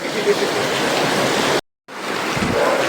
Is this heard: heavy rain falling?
yes